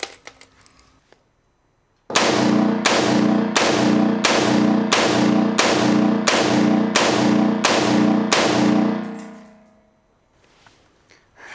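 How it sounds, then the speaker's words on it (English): An LCAR rifle fitted with a muzzle brake fires nine sharp, loud shots in a steady, evenly spaced rhythm, each with a short ringing decay, after a quiet start and fading out at the end. "Load a couple more rounds and shoot it a little more."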